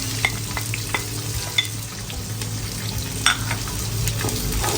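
Crushed ginger, garlic and green chilies fry in hot oil, a continuous close sizzle with scraping stirs and a few sharp utensil clicks against the pan, no talking.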